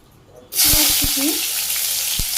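Cumin and panch phoron hitting hot oil, bursting into a loud, steady sizzle that stays up close, with a few soft knocks and clicks from the pan under the frying.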